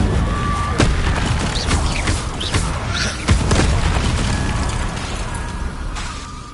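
An Incendio fire spell cast in Hogwarts Legacy: loud booming bursts and crackling impacts with mechanical clatter, several hits in a row over a dense, rumbling game soundscape.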